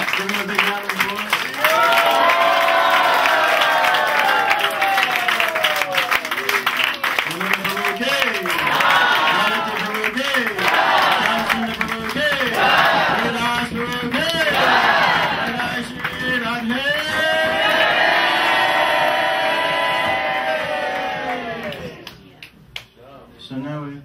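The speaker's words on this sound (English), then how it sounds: "give me a big round of applause" A festival audience claps and cheers in a dense, sustained burst, with voices calling out and crowd noise mixed into the applause before it tapers off near the end.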